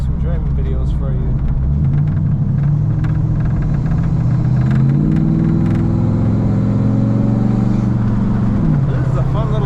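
A 1939 Oldsmobile Series 60 sedan drives on dry winter streets in Minnesota, its engine a loud, steady low rumble that rises and shifts in pitch as it accelerates and changes gear, heard close from inside the car.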